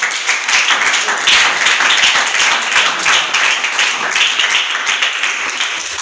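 A church congregation applauding, dense sustained clapping from many hands, loud and steady throughout.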